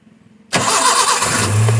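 Car engine started with the key: after a faint electrical hum, the engine bursts into a loud, rough running roar close by, settling toward idle within a second.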